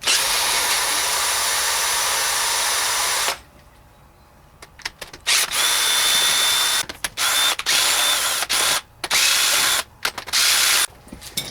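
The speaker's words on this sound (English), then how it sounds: "Make sure to get your bolts for fuel injectors out." A ratchet wrench on an 8mm socket backing out fuel injector bolts on a 7.3L PowerStroke diesel, loud rapid clicking bursts that start and stop in short runs, separated by brief quiet gaps.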